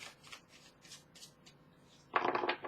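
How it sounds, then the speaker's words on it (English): A deck of tarot cards being shuffled by hand: soft repeated riffles at first, then a louder, dense burst of flicking cards close by at the end. "I can sit here and shuffle all day."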